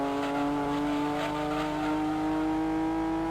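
Datsun race car engine in Gran Turismo 2, a steady high-pitched buzzing drone with stacked harmonics, revving slightly, loud and continuous with no talk.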